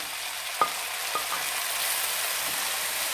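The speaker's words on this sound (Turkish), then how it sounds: "Şimdi bu biberlerimizi de soteleyelim." Red and green peppers with onions and carrots sautéing in a pan for chicken fajitas, a steady close sizzle with a couple of light clicks from stirring, no one talking.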